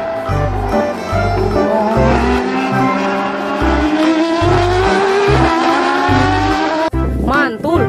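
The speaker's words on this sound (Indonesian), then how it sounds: "Yang ini mobil balap F1" A toy F1 race car makes a loud electronic engine sound with rising, revving whines that climb in pitch over and over, steady and close, ending in a brief dip and a final whoop.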